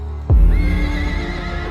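A horse whinnies loudly in a Tamil war film scene from Meiyazhagan, with cavalry commanders riding into battle; one sharp onset swells into a long, wavering neigh over a low rumbling score.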